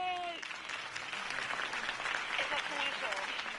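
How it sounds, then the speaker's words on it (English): Crowd applause from a Batman video game fills the scene with steady clapping and cheering, while a voice speaks briefly over the ovation near the start and end. "If only Mr. Wayne, my campaign's largest backer, could have heard that applause"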